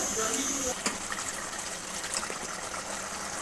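Water gushing and splashing steadily into a cooking pot for mash dal, a continuous rushing pour with a faint voice in the background.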